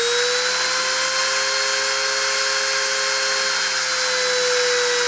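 High-speed spindle spinning steadily at 30,000 RPM during a deposition run, a constant loud whine with stable tonal lines and no breaks, running alone without talk throughout.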